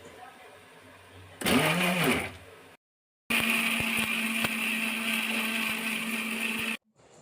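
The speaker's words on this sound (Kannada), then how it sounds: "ಮಸಾಲೆ ಇಂಗ್ರೀಡಿಯೆಂಟ್ಸ್ ಎಲ್ಲ ಮಿಕ್ಸಿ ಜಾರ್ಗೆ ಹಾಕ್ಕೊಂಡು ಮಿಕ್ಸಿ ಹಾಕ್ಕೊಳ್ಳೋಣ" A kitchen mixer grinder runs in bursts while grinding masala ingredients for jackfruit sambar. A short loud whir is followed by a pause, then a longer steady motor drone that cuts off abruptly.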